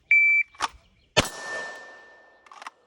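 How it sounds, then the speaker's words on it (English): A shot timer at a shooting range gives a short, clear electronic beep. Sharp, loud cracks like pistol shots follow at irregular intervals, with no talking. "Shooter ready? Hit the buzzer."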